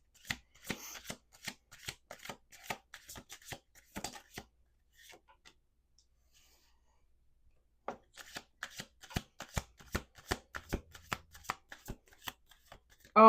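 Tarot cards are riffled and shuffled by hand in two quick runs of crisp, rhythmic snaps, separated by a few seconds of near silence, close up and without any voices.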